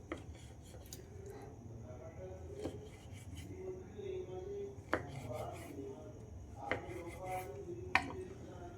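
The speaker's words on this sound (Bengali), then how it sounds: "এইগুলো এইভাবে সমস্ত কেটে নেব।" A knife chops through snack dough on a board in a handful of sharp, separate knocks spaced a second or so apart, with soft scraping and handling noises between them.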